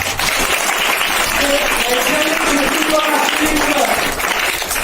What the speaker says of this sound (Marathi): चांगलं जोरात टाळ्या वाजवा